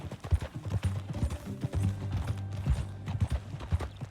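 Hooves of a ridden horse in Red Dead Redemption II thud in an even, repeating rhythm. The clopping is near and fairly loud, with soft breathy snorts woven between the steps.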